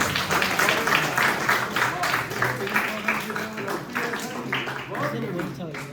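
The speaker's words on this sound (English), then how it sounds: "Guys, clap it should not stop." Applause rings out at a school prize ceremony, a sustained spatter of clapping from a crowd that continues under someone speaking over it.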